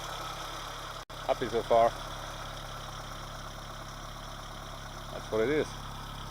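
A 1980 Honda Civic engine idles steadily in the background, a low, even hum running throughout, while someone talks briefly over it.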